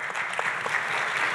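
A short burst of audience applause fills the hall at a literary festival panel on journalism, dense and even clapping from many hands, moderately loud and unbroken for its brief duration.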